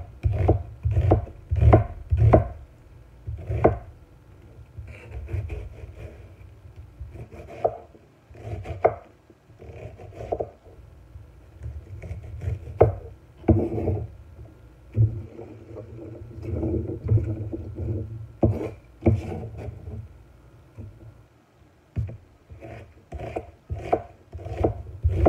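A knife chops summer vegetables, including green tomatoes, into chunks on a cutting board with irregular bursts of close, thudding strikes separated by short pauses.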